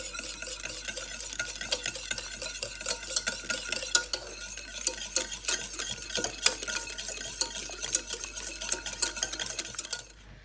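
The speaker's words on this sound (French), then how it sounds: "On rajoute le beurre froid et on mélange bien avec un fouet." Cold butter whisked into hot caramel for salted butter caramel, a steady run of quick scraping, clicking whisk strokes against the pan over a faint sizzle, heard alone with no talk.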